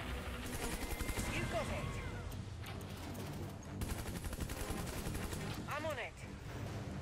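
Heavy machine gun fire in the mobile strategy game C&C Rivals, with sustained rattling bursts mixed with game effects and unit voice lines spoken over the shooting.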